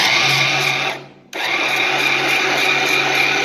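A Yonanas frozen dessert maker runs with a loud, steady high-pitched motor whine that briefly drops out and then resumes at full strength, close by, with no talk.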